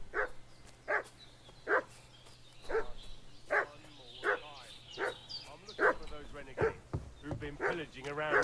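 A dog in Kingdom Come: Deliverance II barks repeatedly in a steady rhythm of sharp, fairly close yaps, with a few quicker barks near the end over a low ambient hum.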